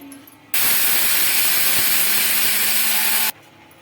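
An electric mixer grinder in a kitchen runs at full power grinding dry sago pearls into powder, a loud steady whir and hiss lasting a few seconds, starting and stopping abruptly.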